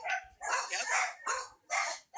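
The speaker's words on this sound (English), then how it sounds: "Go take care of your dogs, Mallory." Several dogs bark in quick bursts, four or five loud, close, sharp barks with short gaps between them, with no talk over them.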